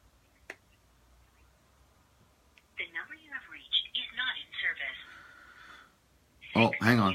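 Telephone dialing sounds for a live phone call come through a handset line, starting after a faint click and followed by a longer burst of tones at the end.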